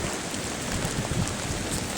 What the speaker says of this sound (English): So it's raining out today.